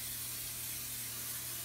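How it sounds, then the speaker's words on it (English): Cooking spray hisses steadily onto a casserole dish in one continuous, fairly quiet spurt, with a low kitchen hum underneath. "I'm just gonna use a cooking spray"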